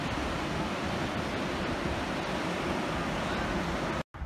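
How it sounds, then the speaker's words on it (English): Ocean surf below the cliffs of San Diego near Torrey Pines washes in a steady, broad hiss and rumble, with wind buffeting and no voices, cutting off abruptly near the end. "There's the ocean in the background."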